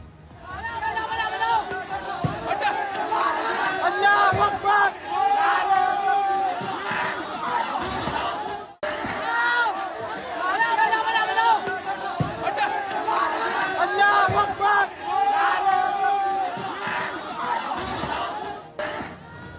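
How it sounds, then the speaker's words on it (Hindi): A large crowd gathers outside Masjid Faiz-e-Elahi near Delhi's Turkman Gate during a clash involving stone pelting, with loud, dense shouting and babble rising and falling continuously, briefly dropping away once before surging again. "लोग एक दूसरे से कह रहे हैं कि मारो और धार्मिक नारे लगाए जा रहे हैं"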